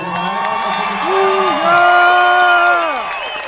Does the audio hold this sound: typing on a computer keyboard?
no